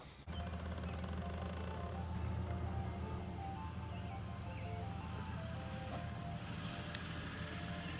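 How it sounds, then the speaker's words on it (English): A distant ice cream truck jingle drifting through a suburban neighborhood during a home go-kart build, faint melodic tones over a low steady background hum. "Ice cream truck."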